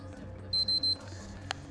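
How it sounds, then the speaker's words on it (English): Three short, evenly spaced electronic beeps sound at power-on as an error code for a faulty EPROM, loud and close over a low steady hum, followed by a single brief click. "So I've got 3 beeps applying power."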